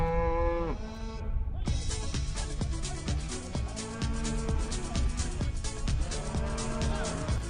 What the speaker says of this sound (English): We just had 20 cows walk across the path of where our cables are.